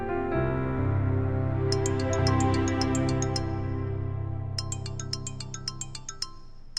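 A phone ringtone plays a bright, repeating electronic melody in two bursts over a sustained musical tone, fairly clear and close in a quiet home kitchen setting.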